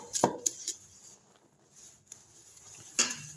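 Cauliflower pakoda batter being mixed by hand in a wide vessel: soft, faint scraping and shuffling with a few sharp clinks and taps against the rim, quiet and close.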